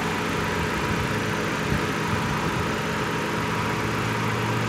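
A Nissan Sentra engine, repaired after a P0300 misfire, idles with a smooth, steady, even drone that holds close and constant throughout, with no stumbles or skips.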